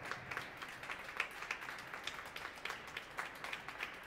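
A concert audience in an atrium applauds a new-music quintet, the clapping faint and distant, a steady patter of many hands with a few sharper individual claps throughout.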